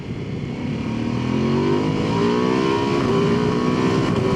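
A 2025 Ducati Multistrada V2 motorcycle accelerating hard, its engine note climbing steadily in pitch as it pulls through the revs, loud and close with wind rush and no voices.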